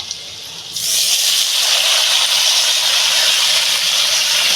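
Raw taro leaves go into a hot kadai, and a loud, steady steam hiss bursts up suddenly and holds without letup after a brief quiet moment.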